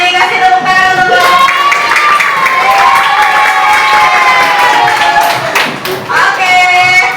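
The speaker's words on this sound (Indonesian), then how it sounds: "Kasih tepuk tangan dulu." A classroom group of children in an Indonesian school claps and cheers together, a loud, sustained burst of applause with high voices shouting and chanting over it.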